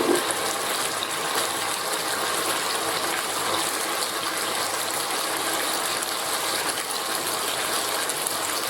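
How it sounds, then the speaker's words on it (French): Steady broadband rush of water poured into a pot of okra soup, continuous and close for several seconds without pause or speech. "On va rajouter de l'eau."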